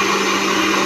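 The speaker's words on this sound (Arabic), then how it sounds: "بضرب الاستفندي في الخلاط" A loud blender motor whirs steadily blending mandarin oranges in a short, even burst of high-pitched grinding.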